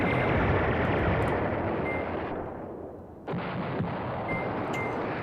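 Artillery barrage in the wartime strategy game Command Ops 2: a dense, continuous roar of distant shelling and gunfire that thins briefly near the end before surging back, heard alone with no voices.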